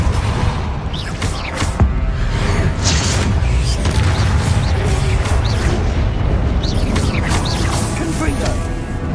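Catapulta spell cast in the Hogwarts Legacy video game, a sustained rumble of booming, crashing impacts and mechanical clatter lasting several seconds, loud and dense, with a voice speaking over part of it.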